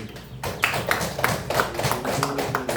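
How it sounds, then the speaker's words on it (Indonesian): Classroom of students clapping for a classmate's correct answer, a quick run of rhythmic, close claps with a few voices mixed in. "kasih tepuk tangan"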